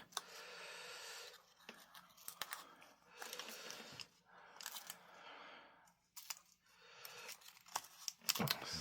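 Scissors cut paper cupcake liners, quiet repeated snips and crinkly rustles in short bursts with brief pauses, faint and close.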